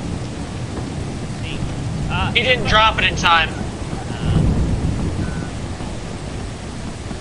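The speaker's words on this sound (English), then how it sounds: "the reason why that lightning striking over there is special" Lightning strike in the video game Lethal Company, a sharp crack followed by a broad rolling thunder rumble with rain-like hiss, heard under several people talking.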